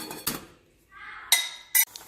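A metal lid is set onto a pot of potatoes in plain water on the stove, giving a couple of sharp clanks and a brief ringing scrape, close and alone.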